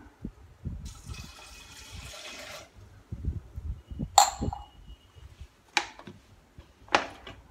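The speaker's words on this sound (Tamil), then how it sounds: "ஒரு கிளாஸ் கிட்டத்தட்ட தண்ணி ஊற்றுறேன்." Roughly a glass of water poured into a cooking pot holding small onions and salt for a moong dal keerai sambar, a soft, steady splashing stream for about two seconds, followed by a few sharp clinks and knocks of utensils.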